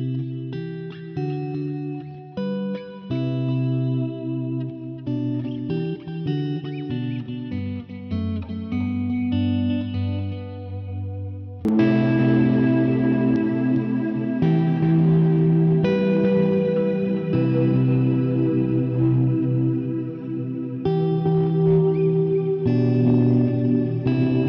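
Electric guitar played clean through P90 single-coil pickups, strummed chords and picked notes ringing with echo and chorus-like shimmer, getting fuller and louder halfway through, with no talking.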